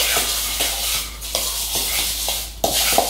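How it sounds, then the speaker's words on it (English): Strawberries with lemon juice being stirred in a bowl, a continuous wet, squelchy scraping with a few sharper clicks of the utensil against the bowl, close and fairly loud. "what I'm gonna do is stir this because I want all the juices in the strawberry to come out"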